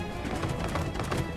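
Horse hooves clip-clop in Skyrim, the game running at sped-up speed, a rapid steady patter of hoofbeats heard close and fairly loud for a brief moment with no talk.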